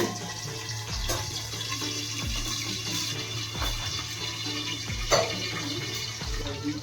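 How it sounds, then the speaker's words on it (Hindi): Water pours into a pot during home cooking, a continuous moderate splashing trickle with occasional clinks of cookware and no talk. "और आधा गिलास से कम पानी डालूं।"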